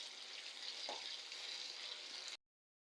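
Kerala palampuri, banana fritters, frying in hot oil: a loud, steady, close sizzle with dense crackle throughout, then an abrupt stop into silence.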